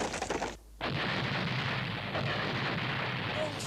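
A cannon fires in an animated Zorro film, a loud rumbling blast after a short silent gap, followed by a sustained roaring boom that rolls on to the end.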